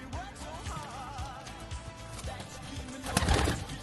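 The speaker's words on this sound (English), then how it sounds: "Someone's made a pigeon hut. Look at that. There's loads of birds inside." Pigeons in a rooftop pigeon hut give soft, wavering coos and calls over steady background noise, ending in a louder burst of rustling or flapping near the end.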